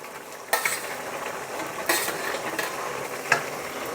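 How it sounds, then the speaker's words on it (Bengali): Pieces of ash gourd and fried lentil fritters drop one by one into a hot pan for Bengali shukto, three sharp clinks and splashes over a quiet background sizzle, no talking. "এবার আমি চাল কুমড়োটা এর মধ্যে দিয়ে দেবো এই বড়াগুলো এর মধ্যে একে একে সব দিয়ে দেবো"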